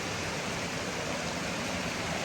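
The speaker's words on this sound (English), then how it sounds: "just got up to the first main sort of waterfall in this creek here around the corner" Steady, broadband rush of a waterfall with good flow in a secluded hinterland creek, constant and close, with no voices over it.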